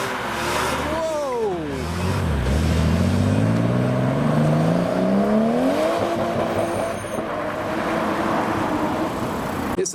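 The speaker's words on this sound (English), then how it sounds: "Oh, another Supra with the E46 M3 leaving the show." A Toyota Supra and a BMW E46 M3 drive out of a car show, their engines revving and rising and falling in pitch as they pull away close by amid crowd noise.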